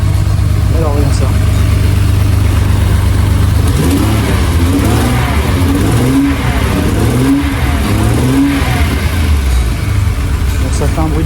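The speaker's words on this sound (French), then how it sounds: "Donc ça fait un bruit de V12." Ferrari 400 V12 engine restarting after sitting unused for 18 years, with moisture in the exhaust, running loud and close at a steady idle, then revving up and down repeatedly; talk over it is faint.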